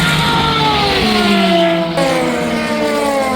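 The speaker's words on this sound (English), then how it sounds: "I'm going to have to show the Aston again because it just sounds so incredible. It screams." An Aston Martin race car engine at Le Mans screams at high pitch, its whining tone sliding steadily downward, loud and continuous.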